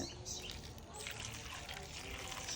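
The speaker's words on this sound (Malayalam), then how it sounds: "ഇളവനിലേക്ക് കുറച്ച് വെള്ളം ഒഴിക്കാം" Water pouring steadily into a cooking pot in a continuous, trickling stream, close by, with faint room noise in the background.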